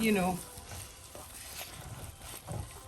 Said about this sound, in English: I'm gonna stir and cover my jollof again and allow it to keep cooking